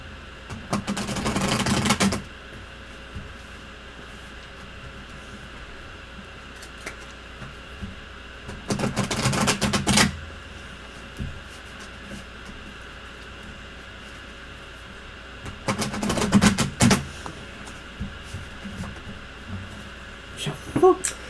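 Three short bursts of tarot card shuffling, riffled quickly, separated by quiet pauses with faint background hum.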